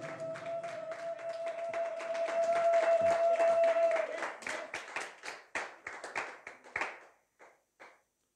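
A church congregation claps in applause, the clapping building into a dense, loud ovation over a sustained tone, then thinning into scattered separate claps that fade out.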